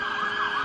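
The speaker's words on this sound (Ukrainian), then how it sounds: "Це сирена, яка встановлюється на спеціальний транспорт" An emergency vehicle siren wails steadily, a loud continuous electronic tone with a slight rise and fall, heard alone with no talking.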